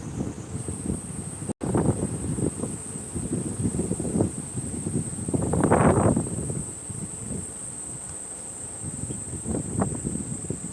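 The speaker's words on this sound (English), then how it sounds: "A very windy test." Gusting wind buffets a microphone outdoors in a Tokyo park, rumbling low and uneven with a strong swell midway, while a steady high cicada drone runs throughout.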